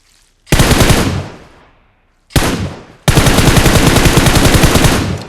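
Loud bursts of rapid gunfire in PUBG Mobile, a short volley, a pause, another burst, then a sustained stream of automatic fire, close and harsh with no talking.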